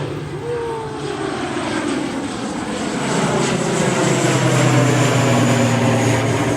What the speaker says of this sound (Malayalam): ഇപ്പൊ ഫ്ലൈറ്റ് വന്നില്ലേ അതാണ് അഗത്തി ഐലൻഡ്